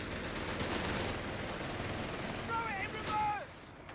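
A rapid burst of MG42 machine-gun fire in Company of Heroes 3, a dense, steady rattling roar across the whole stretch, with a faint voice underneath and a few whistling game tones near the end.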